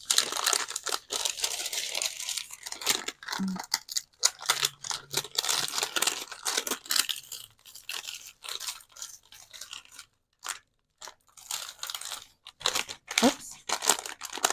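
Homemade texture paper is peeled away in bursts of dry crinkling and tearing, loud and close, with short pauses between pulls.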